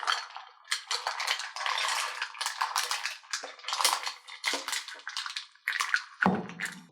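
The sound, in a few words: live mussels being placed into a pot of fish stew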